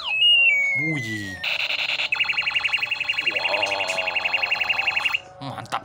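A golden toy gun gives off loud electronic sound effects: a buzzing tone, then a rapid pulsing alarm-like siren with a rising low hum beneath it. A person speaks briefly over the start and end.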